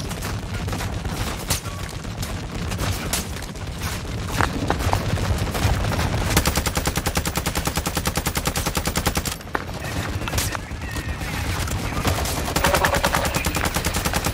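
Sustained video-game gunfire in an MW2 DMZ round, dense rapid automatic bursts rattling almost without pause, loud and close, with brief dips around the middle before firing resumes.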